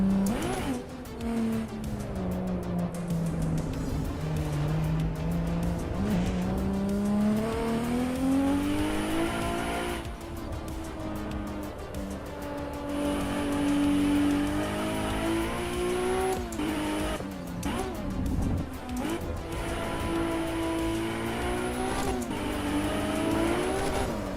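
A race car engine in Assetto Corsa EVO revs hard and steadily, rising and falling through the gears with turbo spooling, loud and close, alongside passing cars and occasional tire noise.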